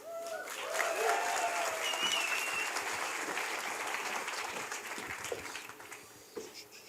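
An audience applauds hosts at an event, a dense steady wash of clapping from many hands lasting the whole stretch and slowly thinning toward the end, with some voices mixed in.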